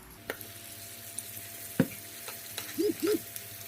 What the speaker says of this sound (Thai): ทอดไก่จนสุกเหลืองนะคะ